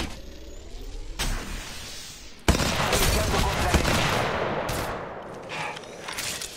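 Gunfire in the mobile battle royale game Apex Legends Mobile: a quieter passage, then a sudden loud sustained barrage of rapid shots that lingers as a dense roar, fading slightly toward the end.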